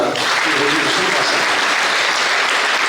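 Loud, dense audience applause at a public gathering on Jain religion in Ugar, Belagavi, sustained and even throughout with no pauses.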